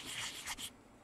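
Sandpaper polishing the surface of a stone carving seal, a soft, faint rubbing scratch in a few quick close strokes that stops after under a second.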